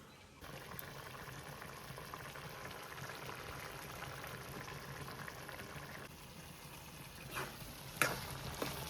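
Clam curry made with tomato, no ground masala, simmers and bubbles in a pot, a steady soft boiling hiss with a few faint clinks near the end.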